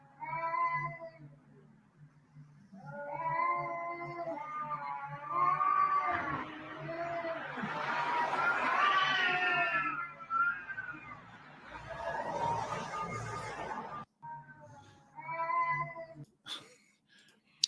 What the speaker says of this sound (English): the cats in heat on the hill